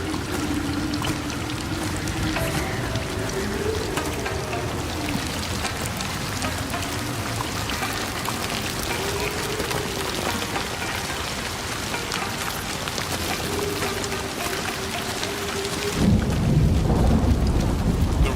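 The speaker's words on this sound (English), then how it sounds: "Rain sounds really amazing in this." Steady heavy rainfall and rumbling thunder in a video game, a dense close wash of rain with a low tonal hum under it and a louder thunder roll near the end.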